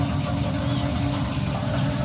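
Water poured out over bathroom tiles during cleaning, a steady continuous splashing rush that stays loud and even throughout.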